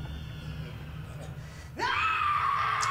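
In BioShock Remastered, a game character lets out a sudden loud scream, rising sharply after a stretch of quieter background ambience and holding as a sustained shrill cry.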